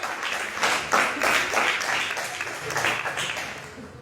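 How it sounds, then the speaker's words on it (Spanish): A church congregation applauds in worship, with dense, fairly close clapping from many hands that holds steady for several seconds and then begins to fade. "dale un fuerte aplauso de adoración al Rey"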